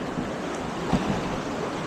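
Water of the Salmo River in British Columbia rushes steadily at a kayak put-in, a continuous broadband wash with wind buffeting the microphone and no talk.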